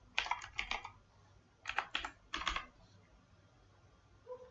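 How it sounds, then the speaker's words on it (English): Computer keyboard keys clicked in three quick bursts of typing, entering an email address and password at close range in a quiet room, with no talking. "you need to type your email address provided by NIC and type the password, whatever password you have"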